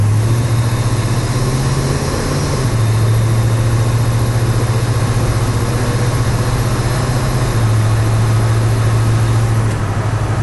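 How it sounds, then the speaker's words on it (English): A 1979 International Scout II sits idling with its slightly noisy exhaust, giving a steady, close, low rumble that holds evenly for the whole stretch, with no talking over it. "the exhaust is a little noisier than it was 2 years ago"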